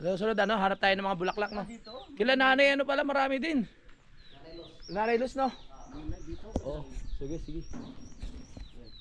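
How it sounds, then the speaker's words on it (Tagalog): Birds singing and chirping outdoors near a house, faint calls scattered between stretches of close conversation, with people talking over most of the sound. "Grabe yung tunog ng mga ibon, nakaka-relax."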